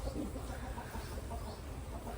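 Chickens clucking faintly on a farm where fodder grass is brought in from the fields, a steady low murmur of soft calls from the flock with no talk.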